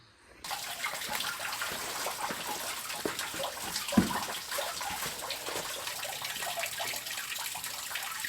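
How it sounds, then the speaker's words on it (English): A small creek rushes through eroded bends in a canyon, a loud continuous broadband flow with a brief splash near the middle and no voices. "Just show you the power and force of this little creek here."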